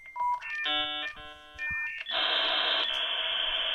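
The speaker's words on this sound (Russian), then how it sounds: "Примерно в то же время у нас появился модем, который делает вот этот звук." A dial-up modem connecting on a late-1990s home PC: quick dialing tones, then layered beeping handshake tones, giving way to a loud, sustained hissing screech.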